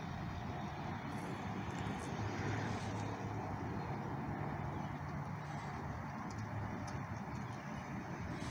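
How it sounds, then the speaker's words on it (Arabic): Next to an airport, a landing airplane produces a steady, fairly faint jet-like roar that holds evenly throughout, heard at a distance with no talking. "هنا جنب المطار، فكل شوية في طيارة بتنزل"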